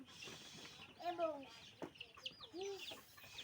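Chickens at feeding time in a low-cost coop give a few short, nasal clucks in separate bursts, fairly close, over faint background noise.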